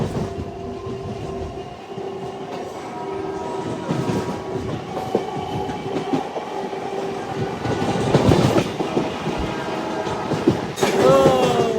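A Kacheguda–Raichur MEMU passenger train runs on rails, heard from on board as a steady rolling rumble with rhythmic clickety-clack of the wheels and brief horn-like tones, with faint voices now and then.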